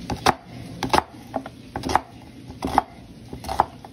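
A knife cuts an onion into thick slices on a cutting board, each stroke a crisp knock, with about a dozen chops in an uneven, steady rhythm close up and no speech.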